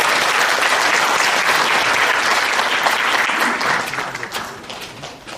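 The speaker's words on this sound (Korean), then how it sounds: "다시 한번 뜨거운 박수 부탁드립니다." Audience at a court-hosted lecture in Busan claps in warm, sustained applause, dense and loud before fading toward the end.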